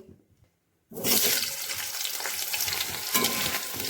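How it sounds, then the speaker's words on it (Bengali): Potatoes drop into hot oil in a wok after fish has been fried in it, bursting into a loud, sudden sizzle after a moment of near silence and then hissing steadily. "মাছ ভেজে তুলে নেওয়ার পরে কড়াইতে তেল দিয়ে দিয়েছি এবার আলুগুলোকে ভেজে নেব"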